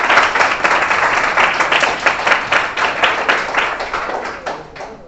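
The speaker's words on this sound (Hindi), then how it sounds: "तो एक बार सिमरन कुमारी के लिए एक बार जोरदार ताली होना चाहिए" An audience claps for the student Simran Kumari, a close, lively burst of many hands in a rapid, even rhythm that holds steady and then tapers off near the end.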